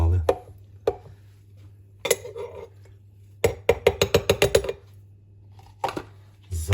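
Propolis being stirred into alcohol inside a glass jar, giving a run of sharp clinks and taps against the glass, a quick rhythmic burst in the middle, close and fairly clear over a low steady hum.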